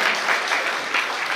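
Dense, steady applause from an audience at a celebration event, a continuous wash of many hands clapping at an even level throughout, with no voices standing out.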